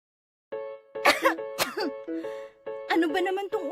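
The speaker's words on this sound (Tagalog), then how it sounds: "Ano ba naman tong ubo na to?" Several harsh, close coughs in short bursts, with a voiced throat-clearing quality and brief pauses between them.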